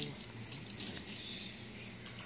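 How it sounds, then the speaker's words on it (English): Tap water runs steadily into a sink as dishes are washed by hand, a close, continuous hissing splash with faint clinks. "Washing dishes is very, very comforting."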